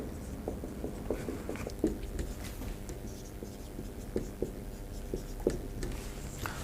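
Marker writing on a board for a class 10 math lesson: soft, continuous scratchy strokes with small taps and squeaks, close and fairly quiet, with no talk over it.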